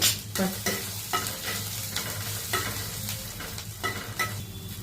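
Chopped vegetables with ginger, garlic and turmeric fry in a pan while being stirred, a steady sizzle broken by repeated scraping strokes of the spatula, close and clear.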